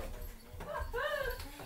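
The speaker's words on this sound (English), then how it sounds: "Oh my god, she barked at you." A small dog lets out a short whimpering yip followed by a brief bark, close and fairly quiet, with a little talk around it.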